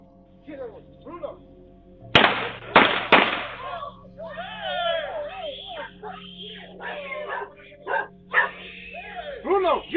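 A dog barking at a home captured by a Ring doorbell camera, with gunshot-like bangs and agitated voices talking and shouting over it.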